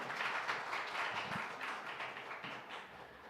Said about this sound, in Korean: 우리 박수로 환영 부탁드립니다.